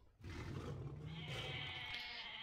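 Goats bleat in the Age of Mythology video game, a short nasal bleat played close and clear with nobody talking over it.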